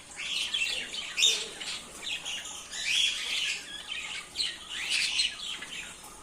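Pet parrots chirp and squawk in bright, overlapping bursts, close and fairly loud, with calls clustering in repeated flurries and no talking.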